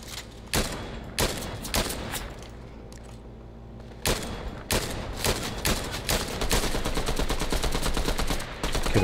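Gunfire in the Fortnite video game, a squads match: dense bursts of loud rapid shots and fusillades, with sharp separate reports near the start and a continuous rattling barrage through the second half.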